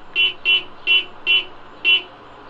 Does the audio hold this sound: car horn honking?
yes